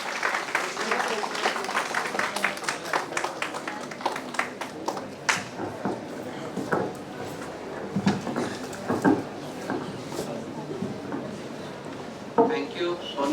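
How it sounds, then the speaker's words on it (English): An audience at an Innovation Day event marking Dr. APJ Abdul Kalam's birth anniversary claps to welcome a speaker to the dais, with steady, moderately loud clapping that thins out toward the end. "Please have a nice round of applause."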